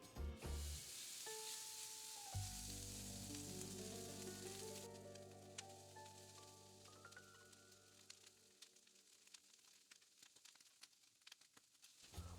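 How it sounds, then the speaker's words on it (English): Loud hissing sizzle of shredded pork hitting a hot skillet, steady and crackling, with a low humming tone underneath for the first several seconds. "Add 6 to 8 ounces of shredded pork to the skillet. It should start to sizzle immediately."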